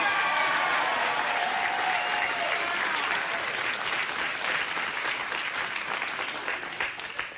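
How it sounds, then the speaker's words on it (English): Studio audience clapping on a late-night talk show, loud sustained applause from a large crowd that stays strong and slowly tapers toward the end. "they were clapping for Steve and Courtney, not for the entire country of Canada"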